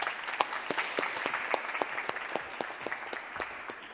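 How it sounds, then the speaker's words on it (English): Audience applause at a policy discussion event, steady and fairly close clapping with sharp individual claps standing out, continuing evenly throughout without speech. "Please welcome with him an applause."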